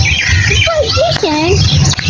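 Several crows call from a village field planted with young cauliflower seedlings, a few harsh caws rising over a steady outdoor murmur of people talking in the background.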